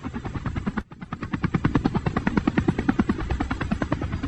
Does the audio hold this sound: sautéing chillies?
no